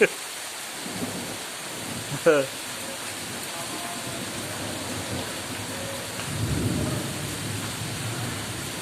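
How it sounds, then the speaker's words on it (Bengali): Heavy rain falls steadily after a Kalbaishakhi storm outside a house with garden trees, a dense hiss throughout, with a sharp thunder crack early on and a low rumble rolling in later. "বৃষ্টি হচ্ছে, বেশ ভালো বৃষ্টি"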